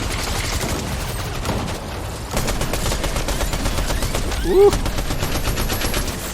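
Sustained bursts of automatic gunfire in a video game battle against NPCs, steady rapid shots at moderate loudness, with a brief voice exclaiming near the end.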